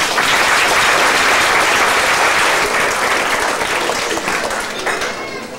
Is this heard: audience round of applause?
yes